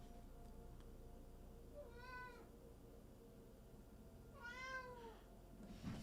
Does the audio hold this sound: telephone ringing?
no